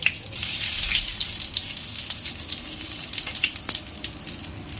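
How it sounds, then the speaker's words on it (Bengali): Dry chillies, bay leaf, cumin and cinnamon crackle in hot oil as a tempering for a light chicken curry, a close, fairly loud hiss that swells early then settles into steady sizzling with small pops. "এবার শুকনো লঙ্কা, তেজপাতা, জিরে, দারচিনি ফোড়ন দিলাম"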